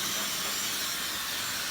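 Hair dryer blowing cold air to diffuse curls during a haircut, a steady close hissing whoosh of airflow running continuously without pauses and with no talk over it.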